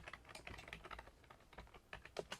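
Quick bursts of keyboard typing during Python coding, with soft, irregular key taps and a few slightly sharper strokes near the end, heard alone at low volume.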